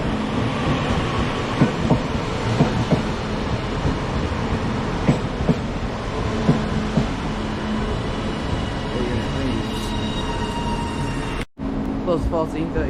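Train at Preston station, a steady rumble of a train running alongside the platform with faint clatter and squeal, then a brief dropout and continued station noise.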